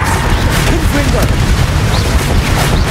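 A Confringo spell explosion in the video game Hogwarts Legacy bursts into a loud, sustained booming roar with heavy low rumble and crackling debris throughout, part of a chaotic fight.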